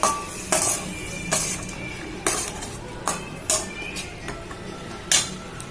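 A utensil scrapes and clinks against a pan about eight times in an irregular rhythm while a pumpkin, potato and raw chickpea vegetarian curry is stirred, with a low steady cooking hiss underneath.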